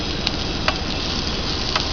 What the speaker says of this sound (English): Cook me up some steak and onions there